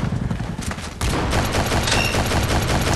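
Machine gun fire from a Lewis Gun in the mobile shooter game CrossFire Mobile, a sudden loud continuous burst that starts after a moment of quieter game sound and keeps rattling steadily to the end.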